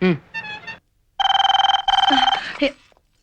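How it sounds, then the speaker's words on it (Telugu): A telephone rings in a repeated two-burst electronic ring pattern, loud and close, with brief speech before and after the rings. "కిరణ్ ఇంటికి ఫోన్ చేయి."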